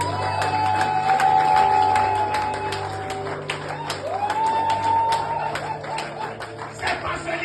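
A church congregation acclaims Jesus with scattered clapping and cheering beneath a preacher's amplified voice, as a musical tone rings through the hall.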